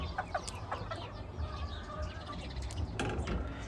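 A chicken clucks in a farmyard, several short close clucks over a busy outdoor background with faint bird chirps.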